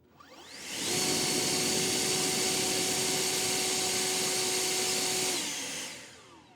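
An older EGO Power+ battery leaf blower spins up on turbo, holds a loud, steady, whining roar with a high tonal hum for several seconds, then winds down.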